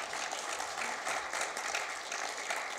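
Audience applause at a Korean TV drama press event, welcoming an actor on stage; steady, even clapping from a crowd, moderately distant and unbroken.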